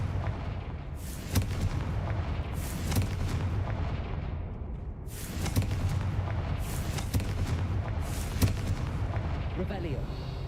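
Repeated Confringo blasting-spell explosions in Hogwarts Legacy, several heavy booming bursts with deep rumbling tails that rise and fade across the passage, loud and close over continuous low game ambience.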